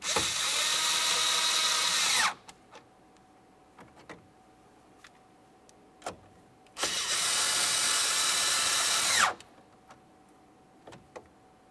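A power drill or driver runs in two separate bursts of about two seconds each, tightening screws on the heater and AC control panel of a 1999-2006 Chevrolet Silverado 1500. A few small clicks and taps fall between the bursts, and no one talks.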